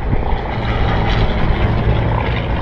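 A vintage twin-engine propeller airplane drones loud and close, a steady rumbling engine roar throughout with no talk.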